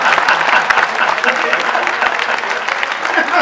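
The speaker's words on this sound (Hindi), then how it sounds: "भाई तालियां कम बजाइए आप लोगों ने" Audience at a live comedy or poetry stage show bursts into steady, dense clapping that stays loud and close throughout.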